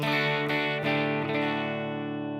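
A clean electric guitar rings out with a few strummed chords, each left to sustain and fade slowly, with no distortion.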